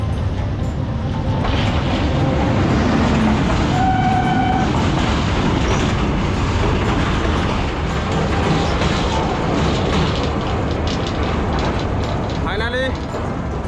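An electric train rumbles steadily over an iron rail bridge above a river, a loud continuous roar with clattering wheels and a brief squeal near the end.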